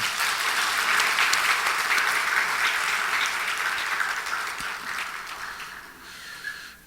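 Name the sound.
church congregation applause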